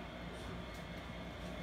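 A steady rumble of an HO-scale model train running along its layout track, with continuous rolling noise and faint clicks, fairly close and even throughout.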